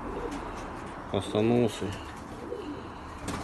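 Young male Uzbek pigeon cooing, one short burst of throaty coos in the middle of outdoor background noise, with someone speaking briefly nearby.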